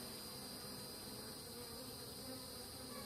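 Bees buzz steadily around a struggling beehive, a dense, continuous drone filling the whole stretch at an even, moderate level, with no voices.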